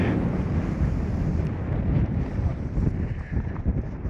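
Desert wind blowing hard across an open microphone, a continuous loud rushing roar with gusty swells and no voices.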